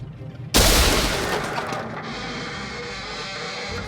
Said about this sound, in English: Thud interrupts your thoughts as something lands on the back of your car, shattering the windshield and tearing apart the metal of the car